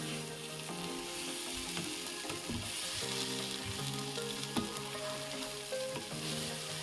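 Masala spices sizzling steadily in a hot pan as they are stirred and fried for a Bengali vegetarian thali, with a continuous crackle and occasional scrape of the spoon, no talking.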